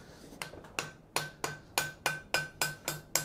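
Hammer peening a forge-welded tee joint on hot steel: about eight sharp, ringing blows in a steady rhythm, close and loud with no talk.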